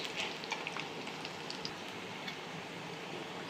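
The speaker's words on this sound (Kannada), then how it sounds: "ಹುಣಸೆಹಣ್ಣು ಎಣ್ಣೆಲಿ ಈ ಥರ ಫ್ರೈ ಮಾಡಿದ್ರೆ ಚೆನ್ನಾಗಿರುತ್ತೆ" Tamarind and dried red chillies frying in oil for mint chutney make a faint, steady crackle with small scattered pops throughout.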